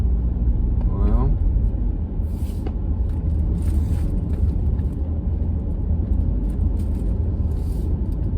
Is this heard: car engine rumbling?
yes